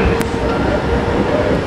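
A Kintetsu express train runs along a branch line, heard from inside the car as a loud, steady low rumble of wheels and motor, with a brief bright squeal near the start.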